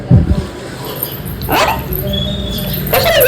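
A pet dog gives a short yip or bark near the start, then soft whimpering sounds follow, with a person's voice briefly in the background.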